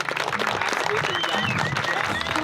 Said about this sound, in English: How about a round of applause for everyone who came out?